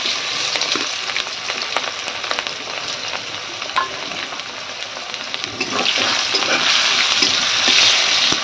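Chopped onions fry in a pan with cumin and garam masala, a steady close sizzle with light stirring scrapes that grows louder and hissier toward the end.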